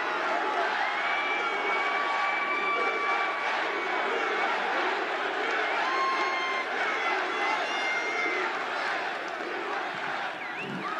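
Large crowd at an outdoor Donald Trump campaign rally in Reading, Pennsylvania cheering, shouting and whooping without a break, a dense wall of voices with some whistles and a few higher shouts on top.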